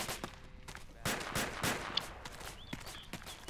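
Gunfire in the military video game Arma 2: a string of sharp, irregular shots, some near and punchy, others more distant, over a low background rumble.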